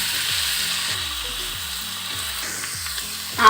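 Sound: tomatoes sautéing in a pan

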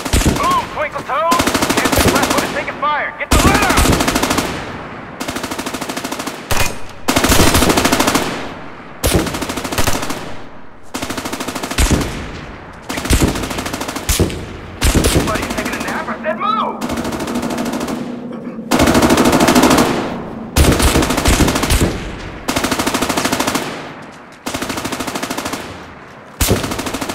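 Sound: gunfire on a firing range in video game America's Army

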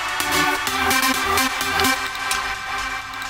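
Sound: uplifting trance synth lead sound

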